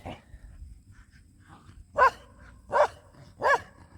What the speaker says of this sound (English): This damn dog's running and jumping